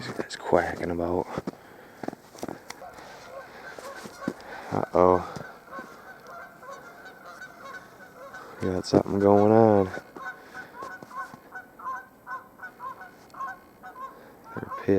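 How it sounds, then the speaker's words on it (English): Waterfowl at Island Park in Alpena, Michigan, with ice melting around them, let out several loud honking bursts spread across the stretch, while someone speaks and footsteps crunch nearby. "These guys quacking about."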